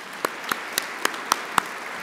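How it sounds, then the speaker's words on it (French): Audience at a 2017 faculty assembly honoring teaching-excellence award recipients gives a sparse, slow clap, six distinct isolated claps spaced evenly about a quarter second apart over a quiet room. "Alors, on l'applaudit."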